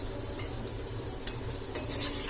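Sev balls fry in oil in a pan while a utensil stirs them, giving a soft steady sizzle with a few light scrapes and clinks against the pan, quiet and close.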